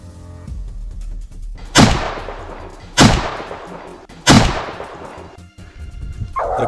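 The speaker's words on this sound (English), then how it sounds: "The gunshot rang out before the smoke had even cleared." Three sharp, loud gunshots ring out about a second apart during a wild boar hunt, each with a quick burst and echoing decay over a low outdoor rumble.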